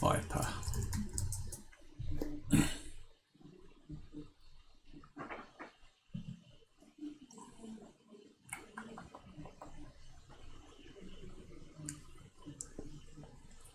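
Fingers tapping out a search on a computer keyboard, quiet irregular bursts of clicks with pauses between, while a person talks over the typing.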